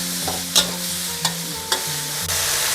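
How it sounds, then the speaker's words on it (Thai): Chicken offal, bamboo shoots and holy basil are stir-fried in a hot pan with a steady sizzle, and a spatula scrapes and clanks against the wok in several sharp strokes, close up, with no talking. "ตอนเนี้ยผัดให้แห้งก่อนเลยค่ะ"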